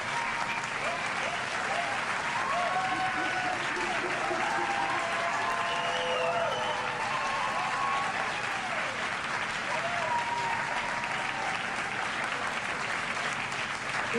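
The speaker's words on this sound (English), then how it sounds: "help me giving her a round of applause because it is much deserved" A large crowd at a live event applauds continuously for the whole stretch, a dense, even clapping wash with scattered cheers and voices mixed in.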